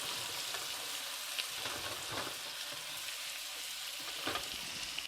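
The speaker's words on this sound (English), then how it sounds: "I'm going to try to get as many shrimp to touch the pan as possible so they all cook as evenly as possible." Shrimp sizzling in a frying pan with garlic and lemon: a steady, bright frying hiss runs throughout at a soft level, broken by occasional louder crackles and pops, with no one speaking.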